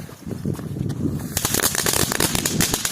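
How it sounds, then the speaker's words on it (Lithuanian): A string of firecrackers goes off in rapid crackling bursts outdoors, a dense run of sharp pops that starts suddenly and continues loudly over wind noise. "Septinta dalis, kai mes sprogdinsime petardus."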